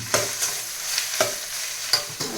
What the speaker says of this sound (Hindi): बस अब हम इसे भून देंगे बस बढ़िया से